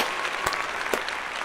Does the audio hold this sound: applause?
yes